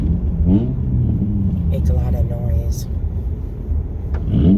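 A car behind rumbles and revs its engine loudly, a low steady roar under a person talking nearby.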